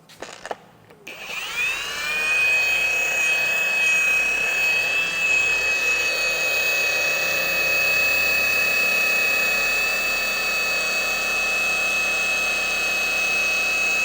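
A polisher spins up on faded, oxidized textured plastic and settles into a loud, steady high-pitched whine. The whine holds close and constant for over ten seconds, with no talking.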